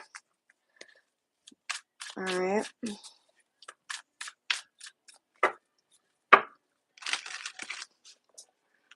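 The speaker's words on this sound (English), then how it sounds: "let's get some shuffling going on" Tarot cards are shuffled in quick, crisp riffles and snaps, close and fairly loud in short bursts, with someone speaking briefly between them.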